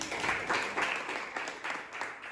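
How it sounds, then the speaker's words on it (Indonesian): Classroom applause after a group presentation, a room of students clapping in uneven bursts that swell and fade over a couple of seconds at moderate volume. "Tepuk tangan dulu untuk kelas ini."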